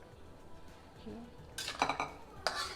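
Mixed vegetables for a coconut-milk vegetable dish drop into a hot wok with a clatter, then a metal spatula scrapes and stirs in quick, loud bursts over a faint sizzle.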